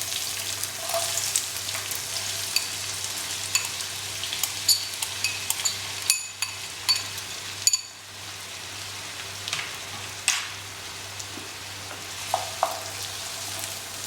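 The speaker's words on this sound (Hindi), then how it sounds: "अब इसमें हम प्याज डाल रहे हैं।" Onions frying in hot ghee for charcoal-infused chicken angara curry; a continuous rainlike sizzle with scattered sharp clicks and pops, close and steady throughout, no voices.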